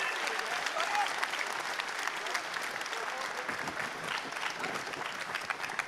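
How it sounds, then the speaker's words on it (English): A large crowd applauds at the EVE Online 20th anniversary Fanfest, with dense steady clapping filling the whole stretch, loud and continuous with some crowd voices mixed in. "Give him a round of applause."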